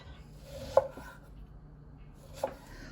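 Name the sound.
knife chopping Meyer lemons into quarters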